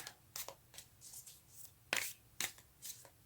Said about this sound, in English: I do shuffle these cards quite well